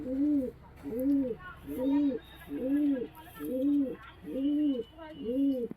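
A Pakistani high flying pigeon coos seven times in an even rhythm, each call close and clear, with faint background noise between calls.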